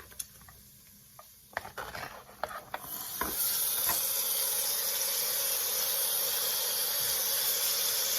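A turkey leg hits a hot pan: a few clicks and small taps, then a sudden, steady, loud sizzle and hiss of searing that holds unbroken to the end.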